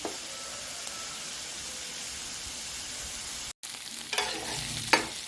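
Cucumber chutney frying in a pan, a steady soft sizzle and hiss with stirring, a brief cut in the middle, then louder scraping and crackle toward the end.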